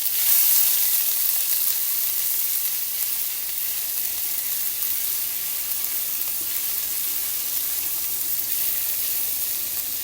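Ginger garlic paste sizzling in a little hot oil as the base of a chicken lollipop sauce, a bright steady hiss that stays loud and even throughout with no talking.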